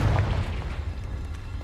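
A Confringo blasting spell goes off in Hogwarts Legacy inside a cave, a deep rumbling boom that stays low and heavy, then trails into a sustained dull roar.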